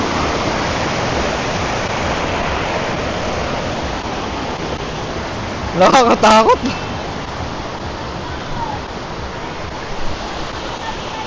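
Sprite Falls waterfall rushing in a loud, steady broadband roar from close by, with a brief voice speaking over it partway through.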